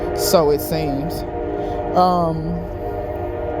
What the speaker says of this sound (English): Y'all excuse the train.